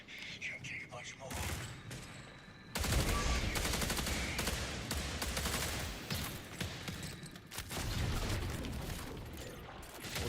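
Gunfire in the shooter game Marathon: dense bursts and rapid shots with mechanical clatter fill most of the stretch, broken by brief quieter gaps.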